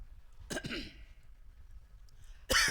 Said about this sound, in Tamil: ஐயா இரும்பு இருந்தா அங்கிட்டு திரும்பி இருமுங்க ஐயா